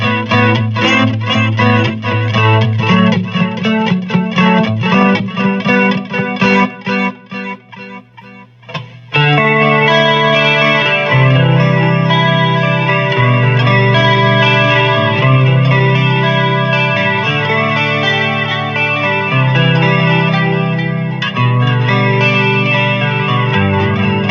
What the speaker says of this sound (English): now let's go ahead and introduce the course and delay, and it's pretty chimey